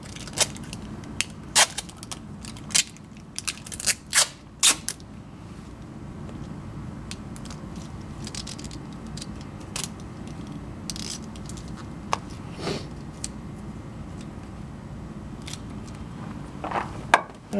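A fine-tooth saw cuts through taped oil line tubing for an oil filter relocation kit, giving sharp, irregular rasping strokes and clicks close by over a steady low workshop hum, with no talk.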